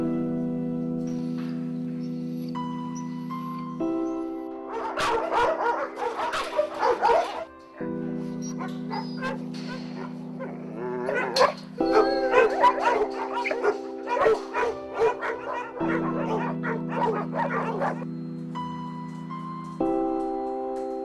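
Dozens of dogs at the Koropi Dog Shelter bark, yip and howl in repeated bursts over sustained background music notes, busy and overlapping, with quieter gaps between outbursts.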